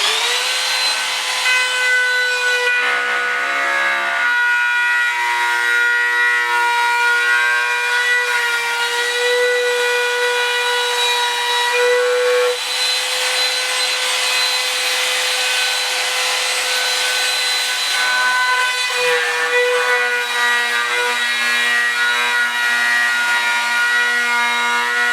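A router trimming laminate on a bathroom countertop, its bearing lubricated, runs with a loud steady high-pitched whine, the pitch shifting slightly as the bit cuts along the edge.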